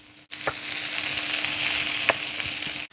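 Green chillies and onion sautéing in a pan for Kerala kalan, a continuous close sizzle with a few sharp spoon scrapes and clicks, no voices.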